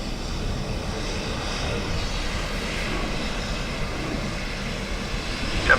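An airliner approaching to land on runway 28 left at Dublin Airport gives a steady, broad engine roar at moderate distance, sustained throughout with a slight swell at the end.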